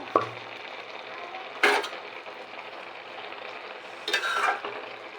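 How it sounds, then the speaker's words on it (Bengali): Taki fish and bottle gourd leaves are turned in a pan for a fish bharta, with a soft steady sizzle and two brief bursts of scraping and clattering as a spatula shifts them. "মাছটা আর লাউ পাতাটা আর একটু উল্টিয়ে দেব"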